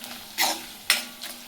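Chili powder, salt and sugar stir-fried in a pan for fodnichi aluwadi, giving two distinct scraping stirs with a soft sizzle and a fainter third stroke at the end, close and alone.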